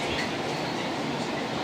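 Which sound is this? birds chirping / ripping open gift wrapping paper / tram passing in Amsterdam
tram passing in Amsterdam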